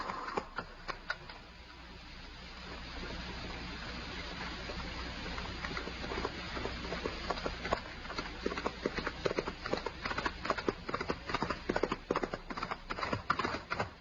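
A horse gallops closer in a Western radio drama, its hoofbeats starting sparse and faint over a low rumble, then growing denser and louder as the rider draws near.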